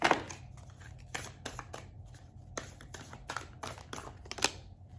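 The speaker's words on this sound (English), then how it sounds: "I'm shuffling the cards" Tarot cards being shuffled by hand, with soft irregular riffles and taps close up, quiet and without talk.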